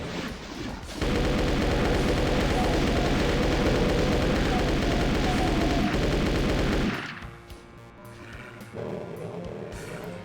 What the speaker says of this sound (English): you can break out the submachine gun to clear out this area full of hit scanners and imps